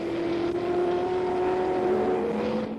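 Race cars run in a 1970 BRSCC race; a steady, droning engine note holds at one pitch throughout the short stretch, moderately close, with no talk.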